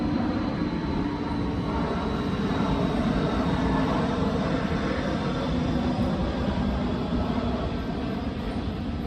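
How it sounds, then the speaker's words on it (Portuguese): A fixed-wing airplane passes overhead, a steady loud broadband engine roar filling the whole stretch with little change in level and no speech. "Outro avião."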